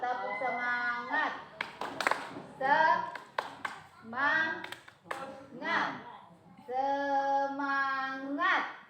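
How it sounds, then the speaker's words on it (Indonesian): A group does a rhythmic spirit clap, tepuk semangat, at a stunting-prevention training session: quick bursts of sharp claps alternate with voices chanting and calling out together, close and lively. "Kita tepuk semangat dulu."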